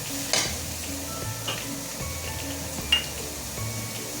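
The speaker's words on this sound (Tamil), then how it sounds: "வெங்காயம் நல்லா வதங்கி வந்திருக்கு." Chopped onions sautéing with a pinch of salt in a pan, a soft steady sizzle with occasional light clinks and stirring scrapes, close and moderately quiet.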